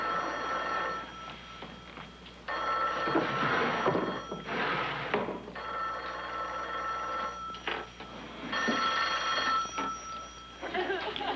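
An old-fashioned telephone bell rings in repeated bursts in a 1950s sitcom apartment scene, loud and near, with a voice speaking between some rings.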